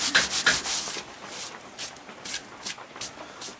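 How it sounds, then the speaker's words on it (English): Sawdust chips ground by hand into a finished pine wooden bowl, a steady dry rubbing and scraping in repeated strokes, close and moderately loud with no talking. "Handful of sawdust chips, you just kind of grind it in, it breaks it up some."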